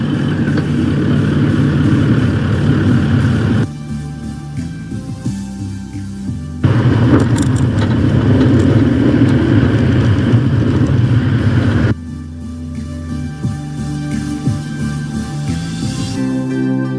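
A car labours through soft sand with a steady mid-range engine drone, switching between heavier revving stretches and lighter, rougher passages as the wheels dig and slide, loud and close throughout.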